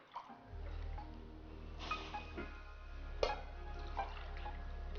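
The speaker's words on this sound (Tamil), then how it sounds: "இப்போ தண்ணி சேர்க்கணும் இல்லையா? ஆமாம், தண்ணி 2 கப்." Water pours into a pan of roasting moong dal, a steady close rush of liquid with a few splashy drips and bubbling bursts, no talk over it.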